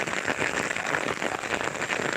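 Heavy April rain pours steadily in a dense, even hiss on surfaces, loud and close, with no break for the whole stretch.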